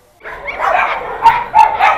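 Several dogs bark and yip at an animal shelter in Hungary, a close, dense chorus of overlapping barks with a few sharper, louder yelps standing out near the end.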